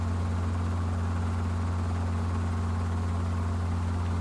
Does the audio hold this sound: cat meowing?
no